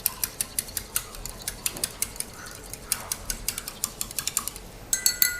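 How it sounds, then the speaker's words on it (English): A spoon stirs a coffee mixture to dissolve it, tapping the cup in quick, steady clinks for several seconds. "And then stir to dissolve the mixture."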